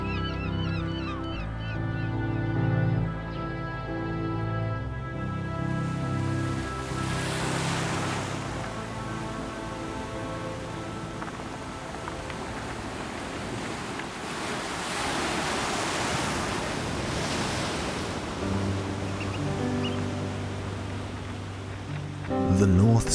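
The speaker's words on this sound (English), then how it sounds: "the North Sea is a vast and powerful body of water, constantly in motion" North Sea waves surge and wash in a continuous, moderately loud roll beneath music.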